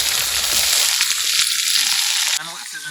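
Meat sizzles loudly as it fries in onion and spice paste in a home kitchen pan. A steady, close, crackling hiss runs throughout, with some stirring scrapes and no voices.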